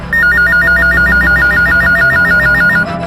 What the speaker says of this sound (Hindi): पुलिस हेडक्वार्टर्स में डायल 100 पर एक फोन कॉल आया था।